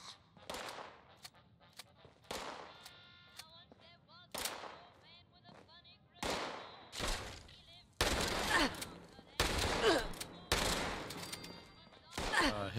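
Hip-fired gunshots in the video game Fallout 76 ring out in repeated sharp bursts and short volleys across the clip, growing louder and denser toward the end.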